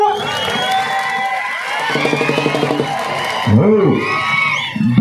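A crowd at a kusti wrestling match roars with cheering, shouts and whoops, with a patter of clapping partway through, while a voice calls out over the din.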